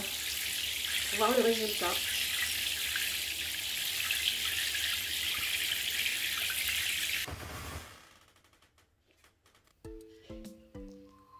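Tap water runs steadily to rinse out hair dye, a broad hiss lasting about seven seconds. A brief voice comes in over it, then the flow stops and a few clinks and a short spoken phrase follow.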